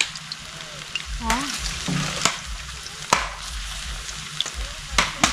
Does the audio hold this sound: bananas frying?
yes